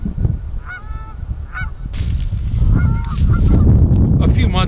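A pair of geese honk repeatedly in a freshly mowed sorghum field, their nasal calls close and clear at first, then partly covered by a rising steady rumble of broadband noise.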